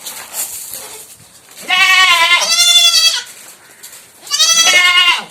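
A goat bleats loudly and close, two long quavering cries separated by a short pause, with quiet background in between.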